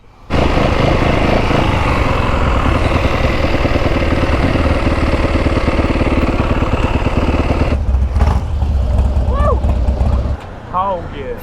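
A Harley-style hog motorcycle on knobby tyres idles close by with a loud, steady, throbbing rumble for about ten seconds before the engine note drops away, while voices murmur faintly around it.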